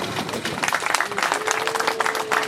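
Applause from an audience at a Green Party campaign gathering in Nyagatare, Rwanda: a dense, steady wash of clapping lasting a couple of seconds, fairly loud and continuous, with a faint tone running underneath.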